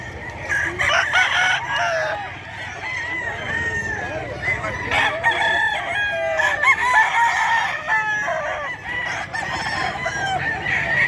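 Sweater gamefowl roosters at Bocaue market crow repeatedly, with overlapping clucks and calls from several birds, loud and close over a busy background, with occasional voices.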